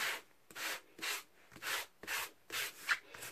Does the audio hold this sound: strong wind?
no